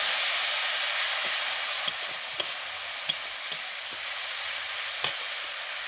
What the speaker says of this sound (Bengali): হলুদ গুঁড়ো, একটু সামান্য লবণ। আবারও কষিয়ে নেব।